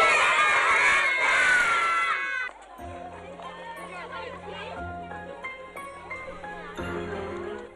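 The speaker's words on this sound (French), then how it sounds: "les rues de Lauterbourg se remplissent de cris d'enfants et de lampions" Children shouting in the streets during a Saint-Martin lantern festival in Lauterbourg, Alsace, a loud burst of excited crowd cries that fades, followed by quieter background sounds.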